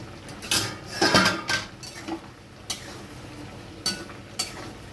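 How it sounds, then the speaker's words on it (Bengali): Metal lid lifted off a cooking pot of sukto, a few sharp clanks and scrapes at the start followed by scattered clinks over a soft background sizzle. "এবার আমি ঢাকনাটা খুলে দেখে নেব"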